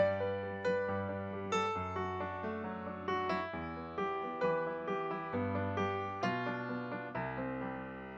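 Solo piano playing a melodic line of single notes and chord tones over the chords of a song, with regular note attacks at a moderate pace, clear and close.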